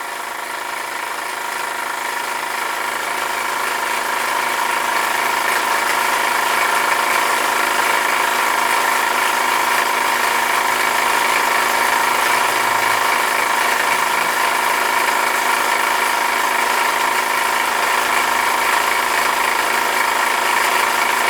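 A Meccano aero windmill running on a smaller pulley gives off a steady mechanical whir and hum that builds over the first few seconds, then holds constant and fairly loud, with no talking.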